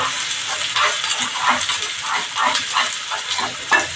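Mirchi vada frying in a pan, a steady hissy sizzle with rhythmic scraping strokes of a spatula repeating roughly every half second, close and moderately loud.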